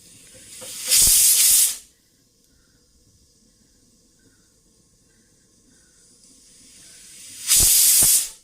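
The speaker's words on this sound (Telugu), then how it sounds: "ఆ కుక్కర్ వచ్చేసింది అప్పుడే." A kitchen pressure cooker whistles out two loud, hissing bursts of steam, one near the start and another near the end, with quiet room tone between them.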